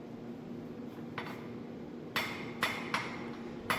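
A hammer strikes metal while forging broom needles, giving about five sharp ringing blows, loose and irregular at first, then closer together, against a quiet background.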